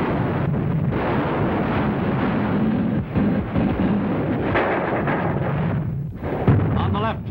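Heavy enemy gunfire and artillery from the battle on Peleliu rumble continuously in a dense, booming roar, with sharper cracks and blasts punctuating the barrage.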